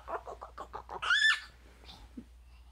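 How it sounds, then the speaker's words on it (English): Chickens on a farm cluck in a quick run of soft pulses, followed by a sharper squawk and a few faint calls at a moderate distance, with no voices. "We feed chickens on Tuesdays."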